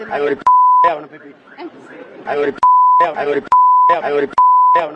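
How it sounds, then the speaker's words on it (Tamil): A TV news segment with someone speaking loudly, his words cut four times by a steady electronic censor beep; each bleep lasts about half a second and drops in sharply between stretches of speech. "அந்த ஊடகம் என்ன செஞ்சிட்டாங்கன்னா இந்த வார்த்தை பேசப்படும் போது பீப் போட்டுட்டாங்க"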